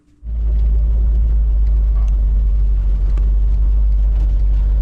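Car on a test drive after a steering repair, its engine settling into a loud, steady low rumble right after a quiet start, with road noise throughout.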